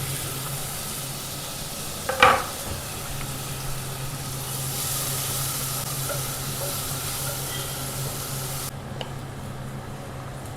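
Onions, green chilies and curry leaves sautéing in a pan, giving a steady close sizzle and hiss throughout with a brief clatter of stirring early on and no talk.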